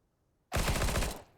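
A single sustained burst of rapid P90 submachine gun fire in CS:GO, loud and close, starting abruptly and rattling steadily for under a second before tapering off.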